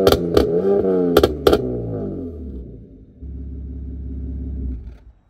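A BMW with a straight pipe exhaust revs hard in a few sharp bursts, then settles into a loud, rumbling idle that drops off abruptly at the end.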